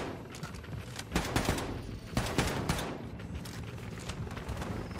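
Rapid gunfire from the video game Wolfenstein 2, several dense bursts of shots cracking in quick succession with echoing tails, loud and close over game ambience.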